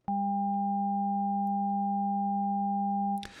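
Additive synthesis in Ableton Operator, with fixed oscillators at 200, 400 and 800 Hz, gives a steady, pure layered tone. It holds for about three seconds, then cuts off with a brief burst of noise.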